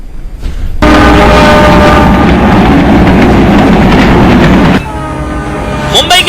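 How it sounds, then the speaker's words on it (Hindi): A train rushes toward the platform at Kurla railway station in Mumbai, a loud, close, steady rumble with rail clatter that swells in and fades out over several seconds, with no talk over it. "मुंबई के कुर्ला रेलवे स्टेशन पर तेजी से गाड़ी प्लेटफॉर्म की ओर बढ़ती हुई आ रही है।"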